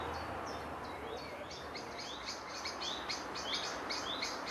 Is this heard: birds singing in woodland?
yes